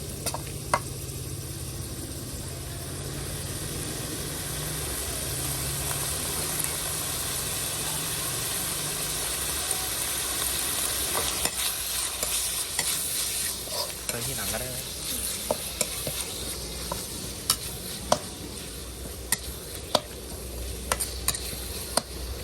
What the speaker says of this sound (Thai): เราจะลวนหมูสับให้ให้สุกก่อนนะครับ